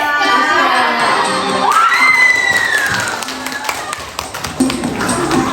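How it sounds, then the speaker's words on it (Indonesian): Classroom of children clapping and cheering during a ranking announcement, lively mix of shouts, whoops and scattered claps with voices throughout. "Tepuk tangan."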